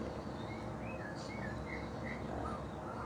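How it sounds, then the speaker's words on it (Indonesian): Several short oriental magpie-robin song phrases play from a phone over a steady background hiss, faint and repeated. "coba teman-teman memancing suara murai di handphone"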